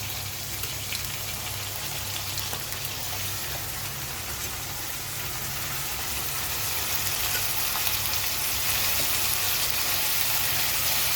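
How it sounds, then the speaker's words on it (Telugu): Brinjal and onions frying in a pan for curry give off a steady, even sizzle with a low hum underneath, continuous and unbroken, with no talking. "ఉల్లిపాయలు వేగినాయి, వంకాయలు వేసుకున్నాం."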